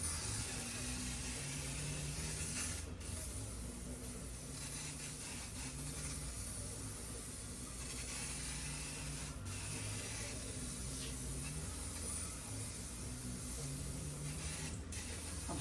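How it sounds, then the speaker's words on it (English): A steady aerosol spray of Armor All tire foam hissing continuously close by from a nearly empty can, with a faint low hum and a few brief interruptions in the stream. "I'm spraying it on thick because it's kind of the end of the can."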